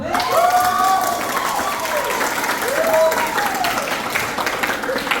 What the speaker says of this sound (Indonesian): Coba tepuk tangan dulu deh